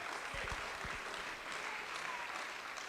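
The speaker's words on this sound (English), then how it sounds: "Yeah, round of applause right now." An audience at a community gala applauds volunteers, a fairly distant, modest patter of clapping with a few louder close claps and low thumps early on.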